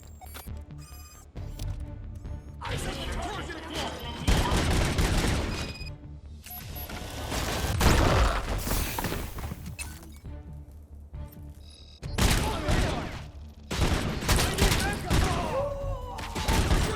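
Sustained gunfire in the RoboCop Rogue City video game, dense bursts of automatic shots and impacts rattling almost continuously, with brief lulls around six and twelve seconds, loud and close.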